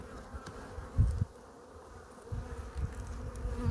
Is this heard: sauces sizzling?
no